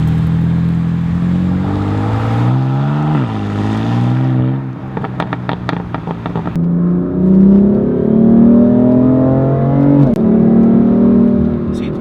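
A BMW M4 Competition in S3 mode revs hard through gears, engine note climbing then dropping at each quick shift with crackles between, loud and close from inside the car.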